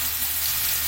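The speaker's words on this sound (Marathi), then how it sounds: "आणि आता मावरा फ्राय करणार आहोत." Mavra fish fries in oil on a tawa, giving a loud, steady hiss of sizzling oil over a brief moment with no voices.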